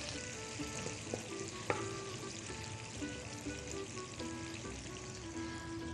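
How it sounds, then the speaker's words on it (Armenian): Onion fries in a pan with a constant crackling sizzle, and stirring adds scraping and clicking, one sharper knock part way through, all close and even with no voices. "տապակվում է արդեն սոխը"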